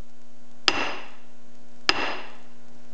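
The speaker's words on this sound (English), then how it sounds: "Let's try this sort of squared off body hammer." Two sharp metallic strikes of a squared-off body hammer on a Mazda Miata transmission synchro spring, about a second apart, each with a bright ringing decay, close and loud with no talk.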